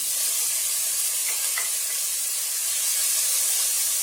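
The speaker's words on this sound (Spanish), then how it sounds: "Tenemos una olla caliente con un poquitín de aceite de girasol, cuchara de madera que no me abandona, cebollita picada bien pero bien chiquitita" Finely chopped onion frying in sunflower oil in a hot pot, stirred with a wooden spoon, giving a steady close sizzle with faint scraping strokes throughout and no talking.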